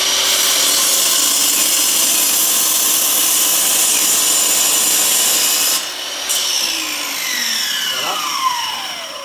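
A slice being sawn off a wooden log against a guide, with a continuous loud, close rasping cut that runs steadily, then eases and shifts in tone near the end as the blade finishes the pass.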